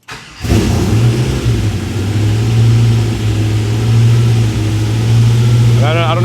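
A car engine fitted with Holley EFI cranks briefly, then catches and settles into a loud, steady running drone close by, with a voice speaking over it near the end.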